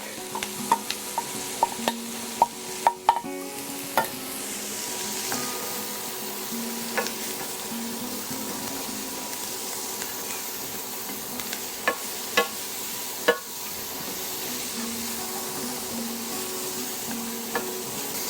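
Garlic frying in a pan with steady sizzle, stirred by a utensil that scrapes and taps the pan now and then, close and continuous, with no talking.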